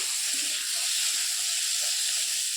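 Pointed gourd (potol) frying in a pan in a home kitchen, giving a steady close hiss and sizzle of oil that runs without a break.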